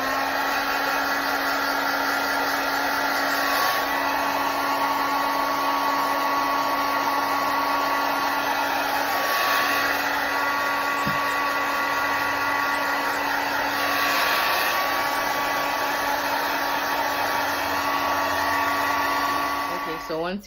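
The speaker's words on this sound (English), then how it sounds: "you're just gonna turn on your blow dryer on cool and let it dry" A blow dryer on its cool setting drying a bald cap blows a steady, loud, even whoosh with a faint whine for the whole stretch, and no voices are heard.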